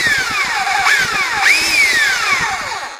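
A Skil Clic 560 W belt sander with a fault that makes it run in jerks, its motor whining loudly and surging up and down in uneven swoops for a few seconds before winding down.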